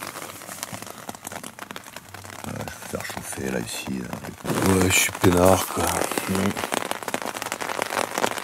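Rain patters steadily on a tent during a hiking bivouac east of the Gorges de Daluis, close and continuous, growing heavier partway through, while someone speaks quietly.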